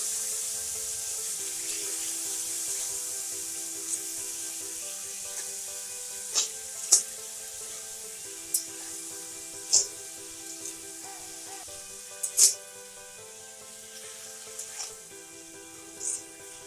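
Tomatoes sizzle and fry in a pan for an Assamese tomato and fish khatta curry, with steady hissing throughout and a few sharp scrapes and clicks of stirring utensils against the pan, close and fairly loud, no talk.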